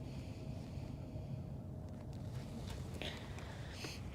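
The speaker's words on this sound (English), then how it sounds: "It's a little windy." Wind gusting steadily outdoors beside open water during bass fishing, a continuous low rumble buffeting the microphone with faint splashing or boat noise on top, no talking.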